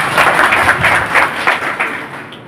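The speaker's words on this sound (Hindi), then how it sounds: "सबसे जोरदार तालियां आपको देनी चाहिए।" Applause from the audience at a farewell ceremony in Bhadohi, with dense clapping that holds steady for a couple of seconds and then thins and fades. No one speaks.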